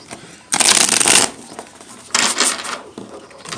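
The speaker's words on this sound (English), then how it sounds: "That was a little bit of a crappy shuffle." Two bursts of tarot cards being riffle-shuffled, a crisp fluttering rattle up close, separated by a brief quiet pause.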